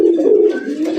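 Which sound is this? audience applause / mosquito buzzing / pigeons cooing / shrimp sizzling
pigeons cooing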